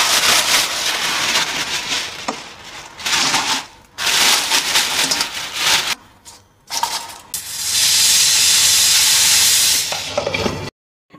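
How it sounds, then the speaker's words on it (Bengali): A pressure cooker boiling jackfruit and potatoes gives off loud bursts of hissing steam, broken by short pauses, then one long sustained hiss before it cuts off. "আলু আমি কেটে নিয়েছিলাম, প্রেশার কুকারে দিয়ে দিলাম, দিয়ে একটুখানি ভাপিয়ে নেবো"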